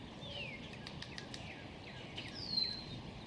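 An American goldfinch flaps its wings as it flies away from a backyard, a soft, faint flutter of wingbeats mixed with a few high chirps and tweets.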